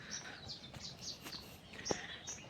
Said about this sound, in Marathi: मस्त पक्ष्यांचे आवाज येत आहेत इकडे तिकडे.